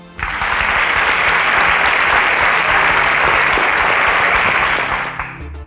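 Steady audience applause at a live-streamed Interswitch SPAK event, a dense wash of clapping that starts abruptly, holds loud and even for several seconds, then tapers off near the end.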